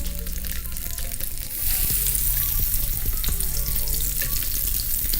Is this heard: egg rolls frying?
yes